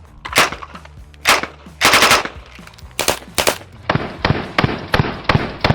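Submachine gun firing at targets in rapid bursts, several loud, close volleys broken by short pauses, ending in a longer string of quick shots.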